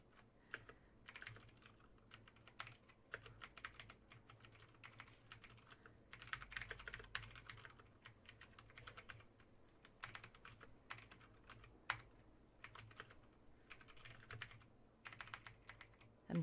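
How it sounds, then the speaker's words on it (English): Steady typing on a computer keyboard, a continuous stream of quiet, close key clicks with irregular rhythm and occasional sharper taps, heard alone at low level. "I'm typing something."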